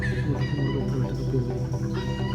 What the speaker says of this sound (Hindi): ये जंगली मुर्गे की आवाज़ है।